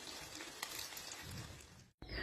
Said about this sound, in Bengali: যেহেতু আমরা ডুবো তেলে মাছগুলো ভাজছি